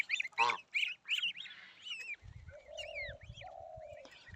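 Domestic geese honk loudly and repeatedly at close range, a run of harsh calls overlapping with other fowl cries and a low rumbling in the background.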